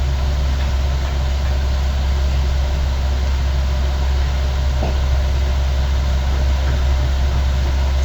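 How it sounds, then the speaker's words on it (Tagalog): Motorcycle engines idling and running on a street below an open room: a steady low rumbling drone with a constant hum, fairly loud and unbroken throughout, no voices. "Sorry guys sa mga tunog ng motor tsaka dun sa mga nasa baba."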